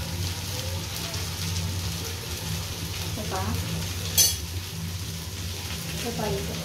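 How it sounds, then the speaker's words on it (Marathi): Butter sizzles on a dosa in a hot pan, a steady close hiss that runs throughout, with one sharp utensil clink partway through. "आता डोश्याला टाकते बटर."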